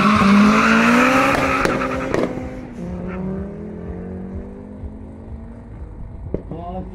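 A Fiat Coupe accelerates in a race against a Nissan 200SX, its engine note climbing strongly with a rasp that fades as it pulls away, broken by gear changes and a short tyre squeal, with someone talking over it.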